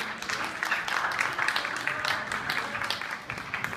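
Festival audience applause, a steady wash of many hands clapping throughout, full and sustained at moderate distance.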